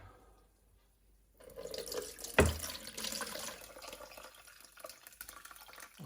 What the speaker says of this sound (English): I'm now going to attempt to sieve some of the mixture from the original demijohn into the jug.